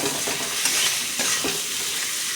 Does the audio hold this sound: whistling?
no